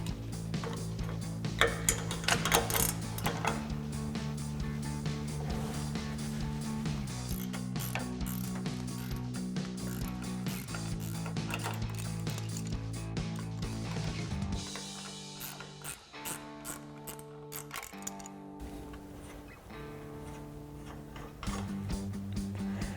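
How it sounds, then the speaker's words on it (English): Ratcheting wrench clicking on a 21mm sway bar end link nut of a 2021-2024 Ford Bronco, close and steady in repeated strokes with short pauses and metallic clinks, no voices. "We've got a 21mm nut that we'll get a 21mm ratcheting wrench on"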